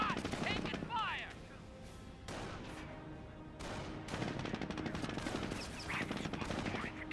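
Rapid gunfire and bursts from a World War II battle in Company of Heroes crackle and rattle over battlefield noise, with a voice speaking over the shooting.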